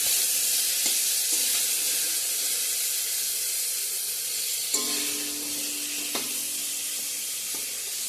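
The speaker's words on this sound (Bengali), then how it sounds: "পটল ভাজাটা করলেই তো হয়ে গেল আমার আজকে রান্না কমপ্লিট" Pointed gourd (potol) frying in a pan, giving a steady, even sizzle and hiss throughout with a few faint clinks of utensils, and no talking.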